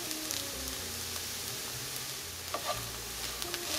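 Ingredients for Mexican-style vegan meat are stirred in a frying pan. A soft, steady sizzle with a few scraping stirs sits low in the mix, alongside faint low tones in the background.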